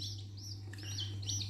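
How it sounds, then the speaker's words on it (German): Young chicks chirping indoors, a few faint high peeping calls repeating over a steady low hum. "Küken."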